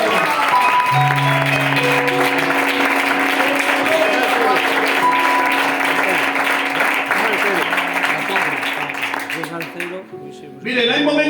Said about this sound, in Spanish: Puedes darle un aplauso al Señor en esta tarde